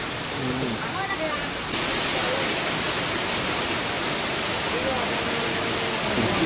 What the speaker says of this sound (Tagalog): Falls.